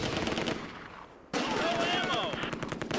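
Mortar and MG42 machine-gun fire in the Close Combat war game during the Nijmegen bridge fight, with rapid bursts, a brief lull, then an abrupt loud resumption of gunfire.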